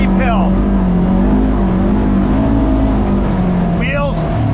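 A Polaris RZR Trail side-by-side climbs a steep hill on a 50-inch trail at Willow Creek in the Allegheny, its engine a loud, steady drone with rising whines at the start and end.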